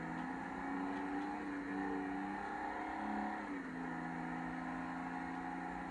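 Engine of a Vapid Sandking SWB truck with a 6-speed automatic accelerating hard over a speed bump in a video game, a steady loud drone with a brief dip in pitch as it shifts, heard alone.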